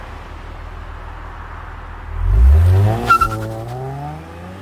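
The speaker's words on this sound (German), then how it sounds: "Wie so ein V6 klingt unter Last in der Fahrt, das werden wir gleich mal auschecken." A Hyundai Coupe with a 2.7 V6 pulls under load while driving, a loud low engine drone rising in pitch as it accelerates, with a short squeal or whine partway through and no talking.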